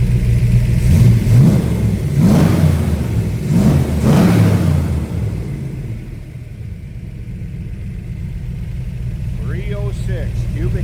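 A Factory Five Shelby Cobra replica's 306 cubic inch blueprinted V8 with a Holley four-barrel revs in repeated loud, close pulses, then settles to a steady lower rumble, with a voice talking over the engine near the end.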